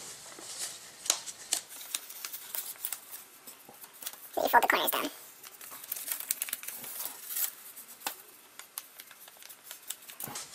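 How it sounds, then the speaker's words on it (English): Paper corners being folded on a small paper sailor hat, with crisp crinkling and creasing, including one louder burst of rustling midway, while a person talks throughout. "You can also fold these corners."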